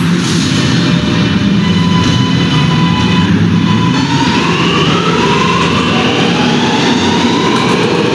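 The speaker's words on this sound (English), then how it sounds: "This is a West Batat bound R train via the N line." A subway R train on the N line runs at speed with a loud, steady rumble and rattling wheels on track, along with screeching tones and a rising whine, continuous throughout.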